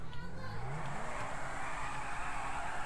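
Car engine in GTA driving at someone to run them over, a steady revving drone with rising pitch early on, fairly loud with a faint voice underneath.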